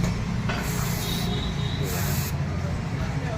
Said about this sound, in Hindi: ऐसी थ्रोटल बॉडी क्लीनर स्प्रे आती है।